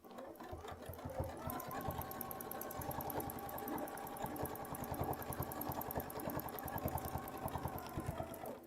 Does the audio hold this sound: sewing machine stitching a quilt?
yes